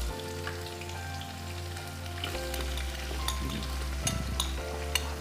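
Whole spices, including peppercorns, fry in ghee and oil with a soft, continuous sizzle and a few light pops and stirring scrapes, close and fairly quiet over a low background hum.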